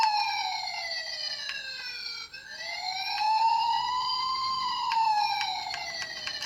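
An electronic toy police car siren wails continuously, its tone sweeping up and down in a bright, tinny pitch with small clicks along the way.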